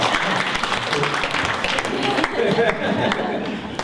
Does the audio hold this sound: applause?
yes